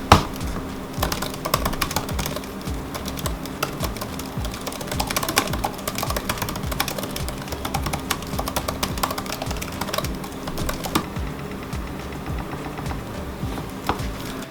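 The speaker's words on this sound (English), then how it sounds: "Here's a quick sound test and a little bit of the mousepad test as well of the keyboard." Keys clack steadily on a 2021 MacBook Pro M1 laptop keyboard, mixed with trackpad clicks, a dense run of close, light taps that continues without a break and with no voices.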